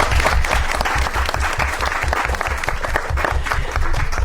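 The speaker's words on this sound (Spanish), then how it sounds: "Un aplauso." An audience applauds steadily on a Chilean science-outreach TV program, a dense, even wash of clapping that holds for several seconds, with a faint low rhythmic thumping running underneath.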